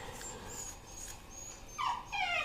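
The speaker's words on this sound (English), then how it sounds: "He's crying. Let me get my little puppy." A small puppy whimpers and cries in thin, high whines, a few faint drawn-out whines first, then louder, wavering cries near the end.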